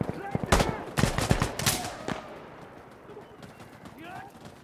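Shotgun blasts in Insurgency Sandstorm crack out in a quick cluster of sharp, loud reports, then trail off into a noisy room tone with faint distant shots.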